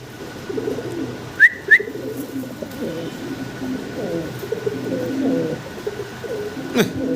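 Fancy pigeons coo softly and repeatedly, with a couple of brief sharp chirps and low murmuring background noise.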